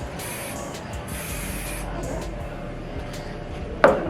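Hair spray misted throughout a woman's hair during a sew-in styling, several short airy spray bursts at close range, then a sharp click near the end.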